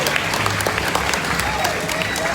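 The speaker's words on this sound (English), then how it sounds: "give a round of applause" An audience applauds at a crocodile show at Australia Zoo, a dense, steady wash of clapping from a crowd that holds at an even level for the whole stretch, with some talk mixed faintly underneath.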